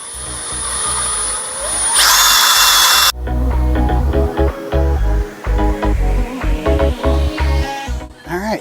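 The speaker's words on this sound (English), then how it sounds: "we got our drill" A power drill whines loudly, spinning up and down in a series of short bursts, close by, drilling marked holes to mount house numbers, with a few brief pauses between runs.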